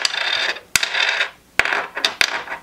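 Small metal parts from an Eart CP-1 teardown clink together: four sharp bright tings over a rustling handling noise, close and fairly loud.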